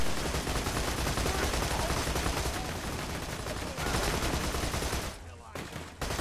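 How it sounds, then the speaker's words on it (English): Dense, continuous gunfire fills a Borderlands 2 firefight, with rapid overlapping shots and bursts that carry on loudly before a brief lull and another volley. "Shooting."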